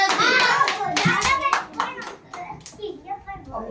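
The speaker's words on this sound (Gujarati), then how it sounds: "તો સરસ બધા તાળી પાડો" A group of young children in a classroom clap their hands together in quick uneven bursts, mixed with their chatter and an adult voice, fading toward the end.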